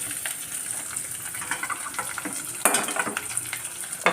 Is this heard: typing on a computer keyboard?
no